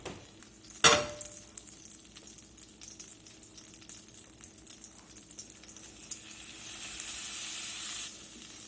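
Three tablespoons of butter melt and sizzle in a skillet, a steady crackling fry that builds gradually, with a sharp clatter near the start and a brighter hiss toward the end.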